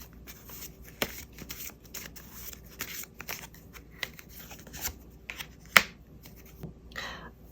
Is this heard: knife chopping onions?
no